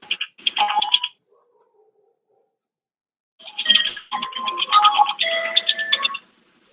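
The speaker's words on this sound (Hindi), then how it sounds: "बीच में फोन आ गया था।" A telephone rings during an online workshop with a warbling electronic ring tone in two bursts separated by a silent gap, close and clear with no talk.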